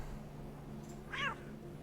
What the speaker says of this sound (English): Hey, it's the kitty cat.